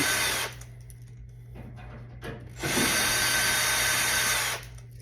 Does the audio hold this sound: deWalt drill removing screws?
yes